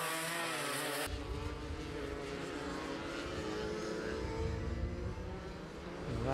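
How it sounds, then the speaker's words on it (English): Racing kart with an Invader 210 chassis and a blowing exhaust, roaring steadily past at close range through a Shenington Kart Racing Club SuperPrix race, with a continuous buzzing engine note that swells near the end. "that kart does sound a little bit like the exhaust is blowing"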